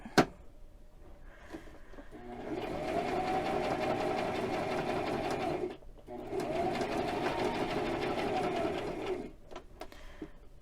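A sewing machine stitching in two steady runs of rapid mechanical whirring and clatter, separated by a short pause, with a faint click at the start.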